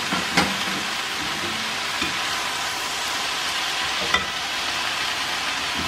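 Banana heart being stir-fried for kilawin gives off a steady, close sizzle in the pan, broken by a few sharp clinks of utensils, with no talking.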